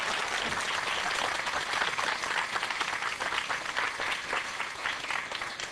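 A studio audience applauds a pastor, a dense steady patter of many hands clapping together, sustained throughout and slowly fading slightly toward the end.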